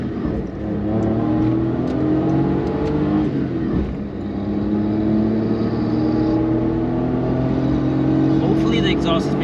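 A Suzuki Jimny JB23 with a K6A engine drones and revs steadily throughout, its exhaust giving harmonic tones that rise through gear changes, close and loud.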